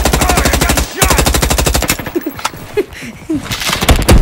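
Rapid machine-gun fire from a Roblox Call of Duty game, long bursts of evenly spaced shots, then scattered single shots and short volleys, loud and close.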